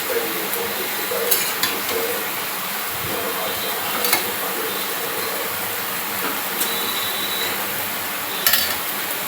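A curry of fried shrimp and Malabar spinach is stirred in a pan over a gas flame, giving a soft continuous sizzle broken by scattered scraping clicks of the spoon against the metal.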